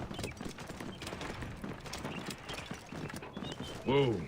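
Hoofbeats of a riding animal, a camel or horse in the game Assassin's Creed Origins, clop in a steady rhythm beneath someone talking, ending with a brief whinny-like call.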